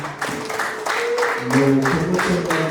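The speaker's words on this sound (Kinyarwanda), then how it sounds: "turabashimira mu mashyi n'impundu" Applause with rhythmic clapping and ululation from wedding guests at a Rwandan wedding in Nyanza, loud and close, with voices mixed in through the short burst.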